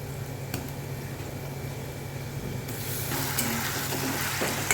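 A paste of tomato, onion, garlic and ginger fries in a pan with a steady, dense sizzle that grows slightly louder partway through, with a couple of faint utensil touches.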